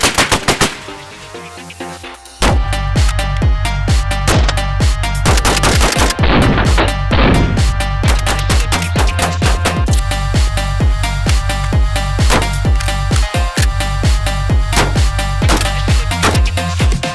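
Repeated suppressed shots from a Langdon Beretta 1301 tactical shotgun fired into dirt outdoors: a dense, rapid string of loud blasts with few pauses, continuing steadily throughout after a brief quieter opening.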